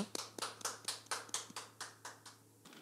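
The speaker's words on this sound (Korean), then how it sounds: "우리 하나님께 감사와 영광의 박수 올려드리시겠습니다" A church congregation claps in praise during a Sunday worship service: about a dozen evenly spaced, crisp claps in a steady rhythm, quiet and somewhat distant, then fading out.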